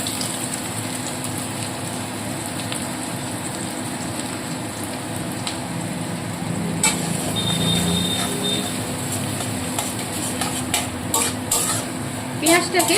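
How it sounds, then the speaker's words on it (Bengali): Chopped onion dropped into well-heated oil for chicken ghugni, a constant close sizzle with a low hum underneath and occasional spoon taps and clicks toward the end. "তেলটাকে ভালো করে গরম করে নিয়েছি এবার এই কুচনো পেঁয়াজটা দিয়ে দিলাম"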